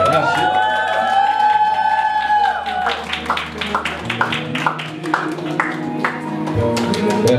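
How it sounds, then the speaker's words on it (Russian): Wedding guests break into applause as sustained music fades. Scattered claps start hesitantly, then grow into brisk, fairly close clapping with light crowd cheering. "Ваши бурные аплодисменты!"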